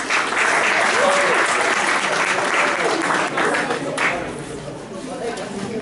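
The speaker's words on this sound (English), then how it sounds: "so clap for everyone and don't be rude" Audience applause at a high school talent show, a dense burst of clapping mixed with crowd chatter and cheering that gradually thins toward the end.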